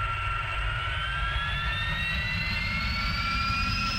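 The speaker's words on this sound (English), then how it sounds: "On the takeoff roll now." A jet fighter on its takeoff roll in the Strike Fighters 2 flight simulator game, a steady roaring engine with a whine rising slowly in pitch, continuous and fairly loud, with no talking.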